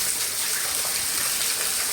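Heavy rain pours steadily on a village during a prolonged downpour, a dense, continuous hiss of drops on surfaces, loud and close, with no talking.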